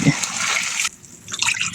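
Water splashes as it is poured into a cooking pot of pork giniling with misua, a close, hissing pour that breaks off briefly and then resumes.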